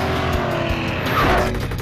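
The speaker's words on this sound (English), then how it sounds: "Drive a real race car on a real racetrack." A race car drives at speed on a racetrack, its engine roaring loud and steady throughout with a brief tire squeal, with no talk.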